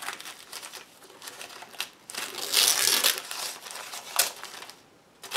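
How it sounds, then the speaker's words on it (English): Paper torn along the edge of an altered-book page, a crisp crinkling rip that swells in the middle and ends in a few sharp tears, close and alone. "I'm just ripping the edge now so that I can see my, oh, yummy edge."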